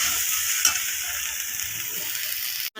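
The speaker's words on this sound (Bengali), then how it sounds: "এইভাবে আমি আলুটার মতো সয়াবিনটাকেও ভেজে নেব ভালো করে।" Soybean chunks frying in hot oil give a steady close hiss and sizzle, with a single soft knock near the start.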